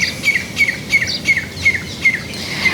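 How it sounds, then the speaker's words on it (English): Birds chirp outdoors in short repeated bursts, several calls spaced evenly over a soft background hum. "it's so important for me to also just hear birds for once"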